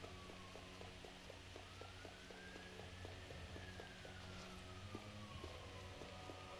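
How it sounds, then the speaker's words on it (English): A faint, distant siren wails in a video game, slowly rising and falling in pitch, over a steady run of soft, evenly spaced footstep-like taps. "Sirens."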